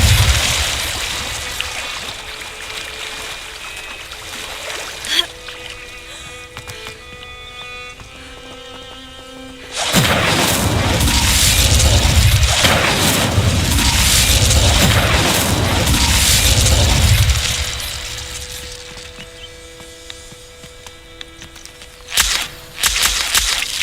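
Fire spell in a video game bursting into a loud, roaring whoosh of flame that sustains for several seconds and then dies away, with game sounds before and after.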